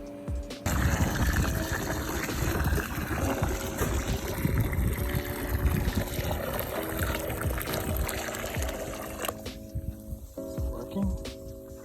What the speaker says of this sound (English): I'm about to pour it onto the ice.